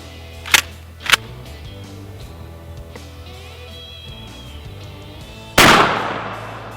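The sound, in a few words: shotgun firing buckshot at a printer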